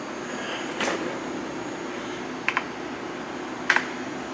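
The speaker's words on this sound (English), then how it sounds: "Or I can hit the keyboard." A few isolated keystrokes on a computer keyboard, sharp clicks at about three moments over a steady background hum, close and fairly crisp.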